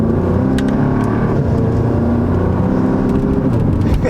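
A straight-piped Audi S3 exhaust with its valves closed, a steady, muffled engine rumble close by, fairly loud and even throughout with no clear rev peaks.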